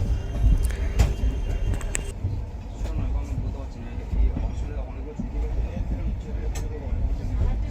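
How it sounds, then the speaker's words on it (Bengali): A train pulls into Howrah station: a steady low rumble and rolling clatter fill the whole stretch, with a few sharp metallic bangs early on, and voices can be heard over the noise. "তো এই হচ্ছে স্টেশনে, হাওড়া স্টেশনে কিন্তু ট্রেনটা ঢুকছে।"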